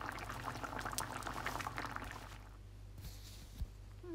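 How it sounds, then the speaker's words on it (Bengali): Fish curry of large catla with radish cooking in a pot on the stove, a steady bubbling simmer with wet liquid sounds for the first couple of seconds, then quieter with a few soft clinks near the end. "এখন মাছ রান্না করতে বসিয়ে দিয়েছি"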